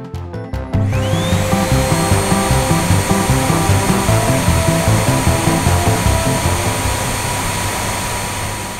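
A hair dryer switches on after a few clicks and runs continuously with a loud, steady whooshing whine close by, with no voices over it.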